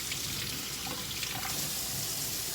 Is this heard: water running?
yes